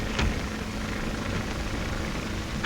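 A 1935 skywriting propeller plane drones steadily overhead, a constant loud engine roar with little change throughout, no voices.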